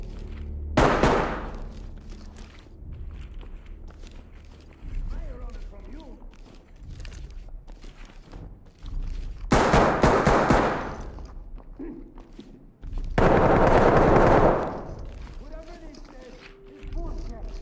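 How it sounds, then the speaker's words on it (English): Bursts of gunfire crack out in several loud, broadband volleys, one near the start and two longer ones later, with someone talking in between. "Where are they shooting from?"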